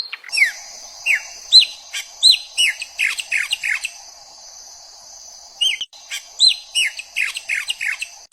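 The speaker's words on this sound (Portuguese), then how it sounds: "Craúna." A craúna, a Brazilian songbird, sings a long series of sharp, descending chirps in a steady rhythm over a sustained high whistle-like tone, with a brief pause midway before the phrases resume, close and clear.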